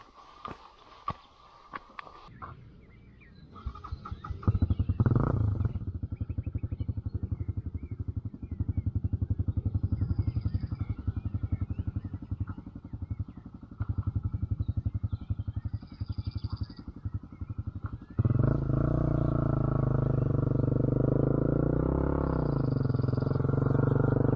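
A motocross motorcycle riding alone up a slope, its engine a steady loud drone that holds for long stretches and surges louder near the end, with some clatter and rustling at the start.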